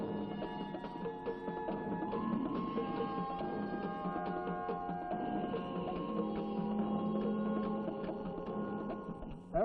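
A computer terminal printer runs steadily, a continuous mechanical chatter with a faint electrical hum beneath it, close and alone throughout before a short knock at the very end.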